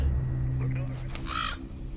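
A crow caws a few times partway through a scene in a film, loud and fairly close over a low rumbling background and an earlier tonal hum.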